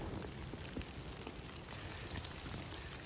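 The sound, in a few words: rain starting to fall outdoors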